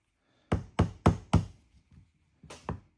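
A small punch and hammer knock the hammer assembly pin out of a Rossi 1892 lever-action rifle. Four sharp, close metallic taps come in quick succession, then after a pause two lighter taps follow.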